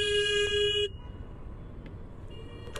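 Car horn sounding in congested Dhaka traffic, a bright, sustained toot held for under a second close by before cutting off, leaving a low background rumble of road noise.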